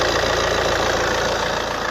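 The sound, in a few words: car engine idling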